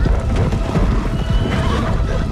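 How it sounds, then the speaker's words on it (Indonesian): A horse in a film scene, driven by an electric shock, gallops back toward a village. Loud, dense hoofbeats and a neigh fill the scene without a break, with other film sound mixed in. "membuat kuda itu berlari kembali ke desa"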